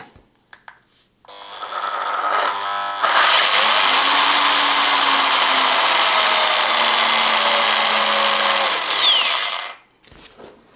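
A Parkside PPEXS 750 A1 eccentric sander running on its rough grinding setting: a loud, steady high whine and grinding buzz that starts abruptly, holds for about six seconds, then winds down, with a faint lower hum beneath.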